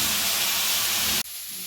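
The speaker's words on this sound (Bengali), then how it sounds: "আর এখানে আলুটা ভাজা করছে" Potatoes fry in hot oil in a home kitchen, giving a loud, steady hiss that cuts off abruptly near the end and drops to a quieter background.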